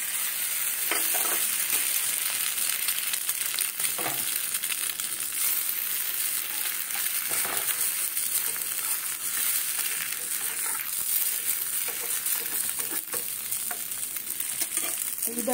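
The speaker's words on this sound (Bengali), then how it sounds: "এইবারে ডিমটা দিয়ে দেবো।" Beaten egg sizzles steadily in a hot oiled pan for an egg roll, a bright continuous crackle with occasional scraping and stirring knocks, close and loud throughout.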